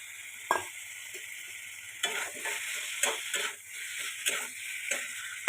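Dried fish pieces go into a hot pan with a little hot water for an Assamese fish curry, giving a bright sizzle broken by repeated stirring scrapes and taps, close and without talk.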